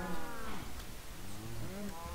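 Cows in the Minecraft video game moo repeatedly, several long, drawn-out calls overlapping one after another in a steady, close chorus.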